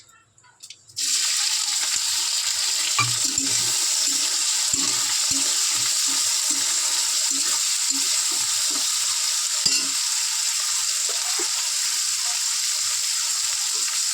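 Shrimp dropped into hot oil for a banana-flower chorchori, bursting into a loud, steady sizzle after a quiet second, with scattered stirring knocks and spatters running underneath the constant frying hiss.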